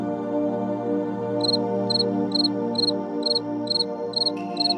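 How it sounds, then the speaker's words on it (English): A single cricket chirps at night in evenly spaced pulses, about eight short trills, clear and close over a steady low electronic hum. "The silence was broken only by the occasional chirping of a cricket."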